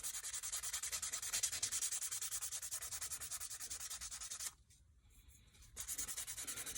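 Steady rhythmic scratching of 400-grit sandpaper worked back and forth over a candy-striped replica finish, close and continuous, with a short pause before the strokes resume.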